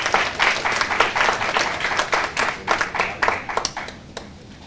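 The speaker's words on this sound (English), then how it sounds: "A round of applause for our speaker" An audience at a law session in Goa claps for a speaker, with distinct close hand claps in a lively rhythm that gradually thin out and fade toward the end.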